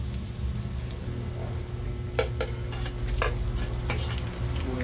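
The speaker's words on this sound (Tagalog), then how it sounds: "mababrown na po ang ating bawang" Garlic sizzles and fries steadily in a hot pan, with a few sharp scraping stir strokes from a utensil breaking through the constant crackle.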